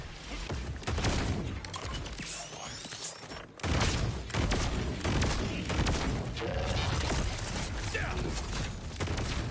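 Rapid bursts of gunfire with explosive splash impacts from a Torque gun fitted with an Impact magazine in Borderlands 4, loud and dense throughout, briefly dropping out near the middle before resuming.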